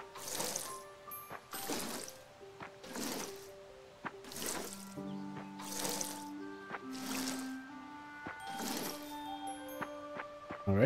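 Crops being watered in the farming game Fae Farm: seven or eight evenly spaced watery splashes, each a short pour, mixed with soft chiming game tones.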